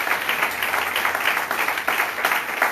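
A church congregation at a French praise and worship service applauds and cheers, a steady, dense wash of clapping that carries on unbroken throughout.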